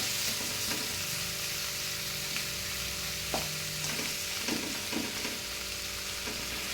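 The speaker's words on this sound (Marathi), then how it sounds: "आपण हे छान असं मिक्स करून घेणार आहोत." Samosa filling seasoned with salt, chaat masala and amchur powder being stirred in a hot pan: steady sizzling throughout with intermittent scraping strokes of the spoon, close and continuous, no voices.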